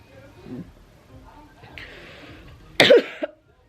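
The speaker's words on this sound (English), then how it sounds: "I'm coughing really bad and a fever." A single harsh cough from a person sick with COVID and fever bursts out close by after quiet, murmured talk and faint background noise.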